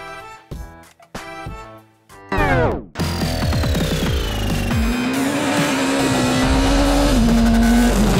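Skoda Fabia S2000 rally car at speed on a San Marino rally stage, engine revving hard through gear changes with brief tyre noise, loud and close, then a sustained high-revving drone.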